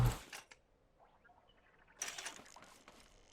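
A piston in the building game Scrap Mechanic pushes half of a vehicle part back into place, giving a brief, faint mechanical clack at the start and another short burst of clicking a couple of seconds later, with quiet gaps between.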